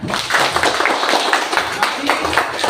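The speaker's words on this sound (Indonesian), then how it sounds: "Bagus ya, tepuk tangan ya." Children clap their hands in a classroom, a busy stream of close, uneven claps mixed with voices.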